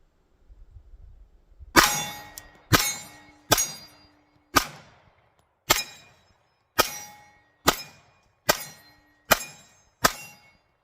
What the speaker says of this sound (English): Let's go ahead and throw some rounds down range, crush some steel targets with this bad boy.